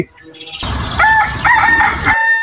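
A rooster crows loudly and close by in a single drawn-out cock-a-doodle-doo with a rising, wavering call, set against faint background noise.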